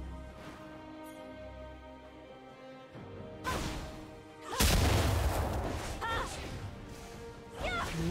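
A turret collapsing in League of Legends: a deep booming crash erupts midway, loud and close, followed by crumbling impacts and a shorter second burst, over game ambience with some in-game announcer voice.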